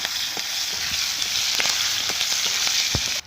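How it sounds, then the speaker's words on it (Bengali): Black cumin, green chillies and chopped onion frying in hot oil, a loud continuous sizzle with occasional soft stirring knocks, close up and with no voices. "এখানে কালো জিরে দিয়ে দিলাম আমি। সেখানে কাঁচা লঙ্কা আর পেঁয়াজ কুচি দিয়ে দিলাম।"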